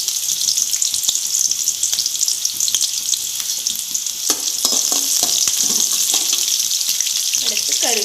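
Shallots and dried red chillies sizzle in hot oil in a pan as they are fried for coconut pepper rice, a steady close crackle with occasional scrapes and clinks of stirring.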